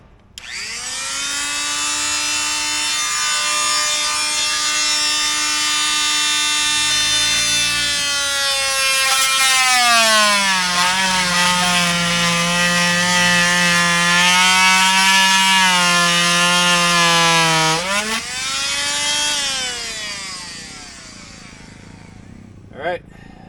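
A power saw cuts through the main manifold of a 25-year-old sprinkler system: a loud, steady motor whine that sags lower in pitch for several seconds under load, then revs back up and stops.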